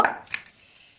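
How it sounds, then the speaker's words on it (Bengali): A knife chops vegetables such as yam and potato on a board, with three quick close knocks in the first half second before the sound fades to near silence. "এই যে আনাজটা কেটে নিই"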